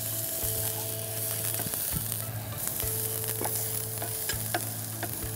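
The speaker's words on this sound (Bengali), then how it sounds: "এই যে তেলে যখন পেঁয়াজ রসুনটা ভাজা হয়" Chopped onion and garlic sizzle loudly in hot oil in a pan, a close, continuous crackling fry with repeated scraping stirs and a low steady hum underneath.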